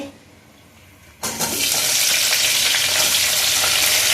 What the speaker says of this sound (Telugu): ఫస్ట్ ఉల్లిపాయలు వేసేసుకోవాలి